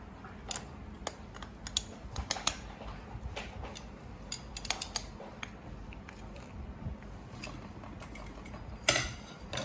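A jammed sewing machine's handwheel is turned by hand, producing quiet, irregular mechanical clicks and ticks, with a louder rattle near the end.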